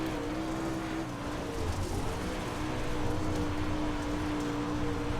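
Dirt late model race car engine in the iRacing game on a dirt track, a steady, loud, droning engine tone sustained throughout with slight pitch shifts, no speech.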